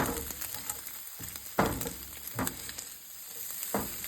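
Food cooking in a pan over medium-low heat crackles and sizzles steadily, with a few sharper bursts as it shifts or is turned, close by and without speech.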